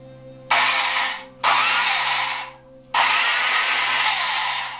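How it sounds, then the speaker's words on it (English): A McGraw-Edison model 958 Powerhouse quarter-inch electric drill, 2.6 amps and 2000 RPM, with noisy ungreased gears, whines loudly in three close bursts that each spin up quickly and then trail off. "This is a model 958 powerhouse drill."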